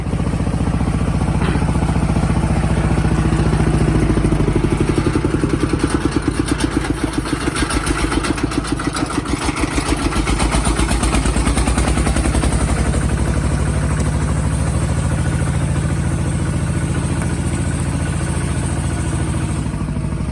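A diesel tractor engine idles steadily with a low chugging rumble and rattling clatter, loud and close, with no talk over it.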